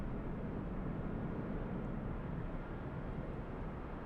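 Low, steady rumble of a Delta Boeing 757-200 departing from Los Angeles airport, a continuous distant engine drone that holds level throughout with no voices.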